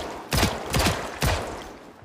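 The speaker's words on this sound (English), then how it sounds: "Although the gunshots might make too much noise." Gunshots in the video game Project Zomboid, three sharp, fairly loud reports spaced roughly half a second apart, each with a short decaying tail.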